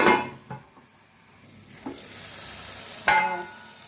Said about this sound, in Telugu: మంచిగా గోలినాయి కలింకాయలు